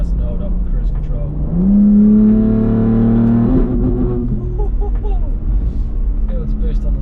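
BMW G81 M3 with a custom exhaust, Stage 2 tuned, idles then revs up and holds a loud, steady high-rpm drone for a couple of seconds before dropping back, close up, with brief talk around it.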